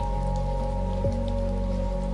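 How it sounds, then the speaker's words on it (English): Steady soft rain falls continuously around a cozy cabin, under a constant low hum with a brief tonal sweep midway, and no voices. "Just the rain."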